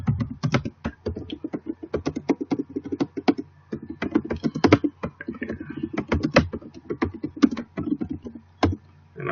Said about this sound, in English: I'm just going to type different ones in here